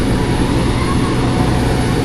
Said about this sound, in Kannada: ನೋಡಿ ಹೆಂಗಿದೆ ಫ್ಲೈಟ್ ಇದು